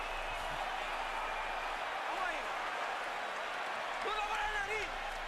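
A dense arena crowd at a Manny Pacquiao versus Miguel Cotto boxing match roars continuously, with a commentator talking over the steady wash of cheering and whistles.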